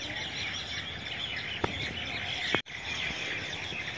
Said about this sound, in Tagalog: Ang ingay ng mga ibon doon banda.